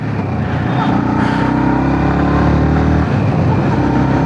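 A Yamaha XSR 155 motorcycle engine runs with a loud, steady drone and a brief rise in revs, while someone talks over it.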